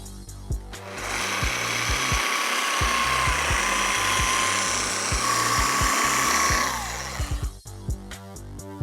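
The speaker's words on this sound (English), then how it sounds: "This Ultimate Cut and the hybrid wool pad are gonna take care of that." Rotary polisher fitted with a hybrid wool pad and cutting compound buffing scratched paint on a mini truck, giving a steady, sustained whirring drone for several seconds over background music.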